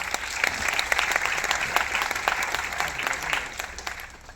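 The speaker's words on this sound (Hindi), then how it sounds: "इनके लिए भी एक जबरदस्त ताली हो जाए" Applause from a crowd at a Vestige direct-selling convention, steady and moderately loud throughout, dense clapping with a few sharper claps standing out, no voices over it.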